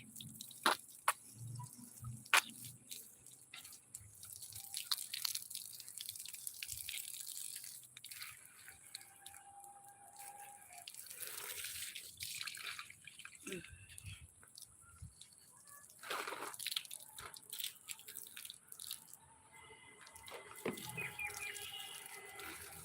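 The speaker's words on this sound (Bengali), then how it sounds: "ঘুরিয়ে ঘুরিয়ে জল দিচ্ছি তার সঙ্গে গোড়াটাকেও একটু একটু ভর্তি করে দিচ্ছি" Water poured around the bases of potted adenium plants outdoors, a soft intermittent splashing and trickling with occasional drips and faint rattles, fairly close, with a bird audible at times.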